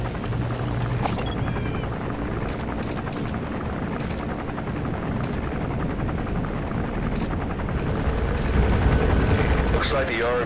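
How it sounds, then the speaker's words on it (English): A helicopter from the video game Metal Gear Solid V drones steadily throughout, its dense rotor noise filling the scene at constant loudness, with faint game sounds layered on top. "Looks like the arms dealer's chopper is going to patrol for the security forces."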